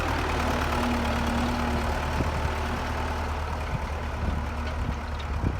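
MTZ-50 tractor engine idling, a steady low rumble with a faint tonal hum and occasional soft clicks, close and continuous with no talk.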